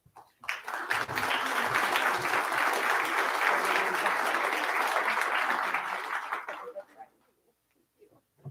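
An audience at a keynote address bursts into loud, sustained applause that holds steady for about six seconds before tapering off, with a few scattered claps trailing into near silence.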